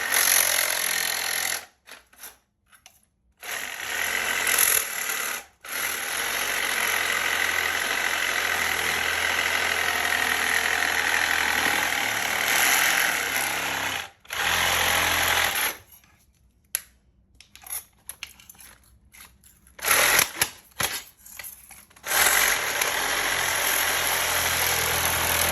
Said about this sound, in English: And I'm gonna go ahead and cut.